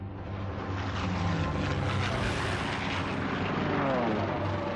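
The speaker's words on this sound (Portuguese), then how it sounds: "Os aviões estavam metralhando e jogando bombas." Japanese warplanes attacking during the Second World War, a loud continuous roar of aircraft engines that swells and holds steady, dense and close with no pauses.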